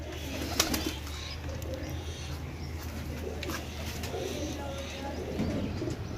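Pigeons in a group of twenty for sale cooing softly in soft low murmurs, with scattered faint chirps and occasional wing-flutter clicks over a quiet background.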